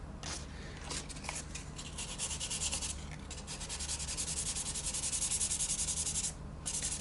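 Sandpaper with dark grey grit rubbing on the body of a left-handed Gibson Les Paul guitar, a close, rhythmic scratchy swishing in rapid back-and-forth strokes that builds in intensity, with a brief pause near the end.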